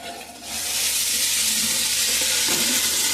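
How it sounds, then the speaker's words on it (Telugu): Tempering spices (tadka masala) frying in oil, a loud, steady, close sizzle that flares up suddenly after a short quieter start and then holds. "సరే చక్కగా అయితే తాలింపు మసాలా చక్కగా ఏగుతా ఉందండి"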